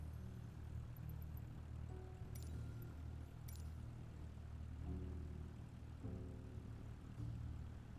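A Cessna 172 piston engine drones steadily at takeoff from runway 16R in a flight simulator game, a continuous low propeller hum with a few faint high clicks over it.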